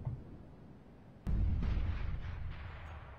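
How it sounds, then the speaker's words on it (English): Grenade blasts in the game Counter-Strike on the Cache map, a sudden deep boom followed by a rumbling burst that lingers for about two seconds and sits at moderate level under the game's ambience. "2 nades and a Molotov into that quad box corner"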